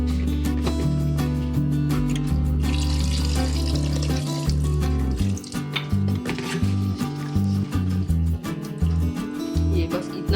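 Water poured into a pressure cooker holding aloo gosht, a steady splashing and gurgling that runs loud throughout over a background of music.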